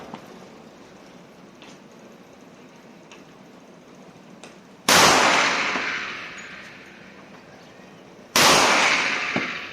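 A Rock Island 1911 A1 .45 pistol with a 5-inch barrel and steel frame fires two loud, close shots a few seconds apart, each with a sharp crack and a long, ringing decay.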